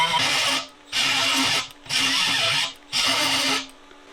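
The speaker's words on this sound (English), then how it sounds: "now I'm gonna take my carbide burr again, hit it again, gouge it out again" A carbide burr gouges into cast aluminum in four loud, even bursts of high grinding whine, each lasting about half a second to a second with short pauses between.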